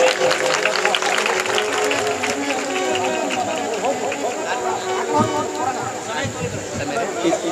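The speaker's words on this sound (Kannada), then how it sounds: "ಅದೇ ಬರ್ಲಿ ಜೋರದ ಚಪ್ಪಾಳೆ ತಾಯ್ತು" Loud, sustained applause and crowd noise from an audience at a religious sermon in a village, with dense clapping and babble filling the whole stretch.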